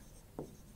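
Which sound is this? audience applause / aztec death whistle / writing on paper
writing on paper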